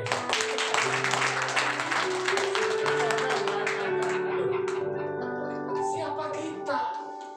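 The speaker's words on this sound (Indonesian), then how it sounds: "Tepuk tangan buat Tuhan ya" A church congregation at a Sunday worship service claps for God, the clapping busiest early on and then thinning out under sustained music.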